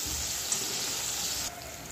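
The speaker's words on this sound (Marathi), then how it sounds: "आपल्याला याची छान फ्राय करून घ्यायचं आहे" Spring onion greens frying in a pan give off a steady, even hiss that stays constant throughout, with a brief crackle near the start and a slight drop in level toward the end. No voices are heard.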